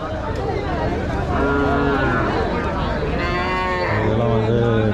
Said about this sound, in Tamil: மாடுங்களே அவ்வளோதாங்க வந்துருக்குது.